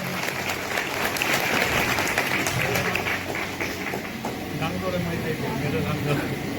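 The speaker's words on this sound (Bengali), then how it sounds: "এর জন্য একটা হাততালি হয়ে যাচ্ছে।" An indoor audience breaks into steady, dense clapping, loud and close, and it keeps going throughout.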